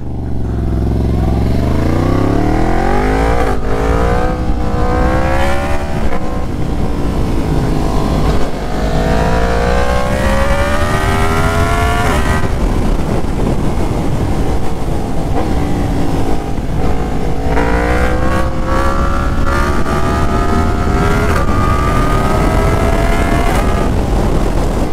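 A Yamaha FZ10 motorcycle revs hard while being ridden, its engine pitch climbing repeatedly through the gears, loud and close under rushing wind.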